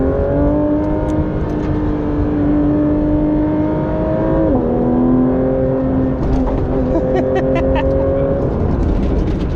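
Porsche 911 GT3 RS engine pulling hard under acceleration, a loud steady tone rising and then dipping at a gear change before climbing again, with tire and wind noise layered in.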